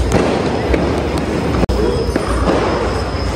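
A loud, dense stretch of Diwali firecrackers bursting, crackling bangs filling the air, with one sharp, louder crack in the middle; close and continuous.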